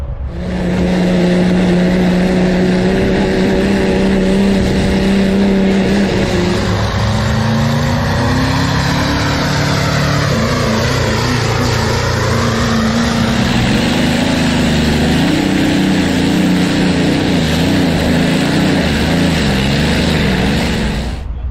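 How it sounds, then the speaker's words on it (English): Truck and tractor engines roar at a tractor pull in California, a loud sustained drone that surges and shifts pitch as the machines strain and rev, with no voices. "the Golden State Invitational truck and tractor pull"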